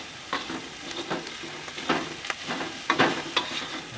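Cabbage is stir-fried fast in a hot pan for Indonesian nasi goreng, with a low sizzle broken by repeated sharp scraping tosses of the spatula at an irregular rhythm and no talking.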